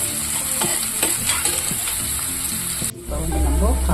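Peas and carrot sauté in a pan for semiya upma, giving a continuous loud sizzle with stirring scrapes throughout, a brief dip near the end and then a low rumble under the frying.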